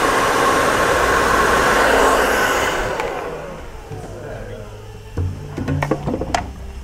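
A hair dryer blows steadily and loudly while a barber styles hair with a vent brush at a barber shop, then cuts off, leaving quieter clatter and handling noises.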